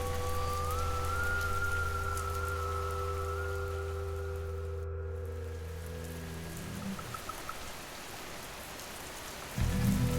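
Steady rain falls under a low droning hum and a faint thin tone, ending with a sudden louder burst.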